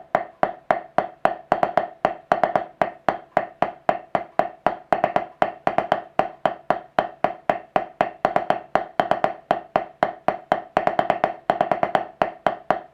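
A drummer plays a triplet diddle warm-up exercise of the drumline kind, built on the five-stroke roll. Steady rapid strokes and doubled bounces repeat in even triplet groupings for the whole stretch, crisp and close, with no talking.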